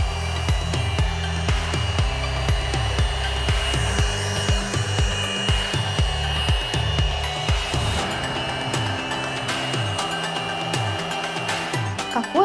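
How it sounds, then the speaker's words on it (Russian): A vacuum cleaner sucks up buckwheat, salt and cookies scattered on the floor, giving a loud continuous motor whine with a crackle of rattling debris and repeated rhythmic bumps as it is pushed back and forth. "попробуем этому пылесосу устроить настоящий стресс-тест. И пропылесосим все сразу."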